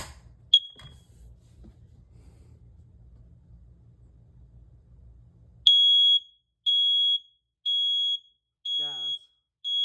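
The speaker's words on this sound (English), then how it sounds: "this is the alarm. We're going to do a test of it today and see how it sounds like." First Alert carbon monoxide and gas detector alarm under test sounds a series of loud, piercing electronic beeps in an evenly spaced pattern, after a stretch of low rumbling background noise.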